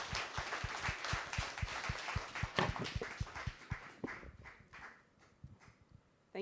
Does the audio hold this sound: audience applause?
yes